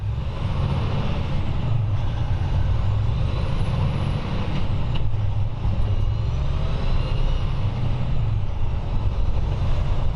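A 2018 truck with an Eaton UltraShift 13-speed automated transmission pulls away from a stop at full throttle, a heavy, continuous engine drone heard from inside the cab with faint whining tones rising and falling as it shifts.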